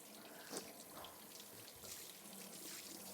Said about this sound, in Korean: 설거지 왜 하고 있어?